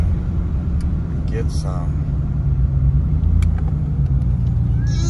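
A car with a rear-mount turbo and a strained old transmission climbs uphill, its engine a steady, loud low rumble throughout, with a brief spoken remark over the top.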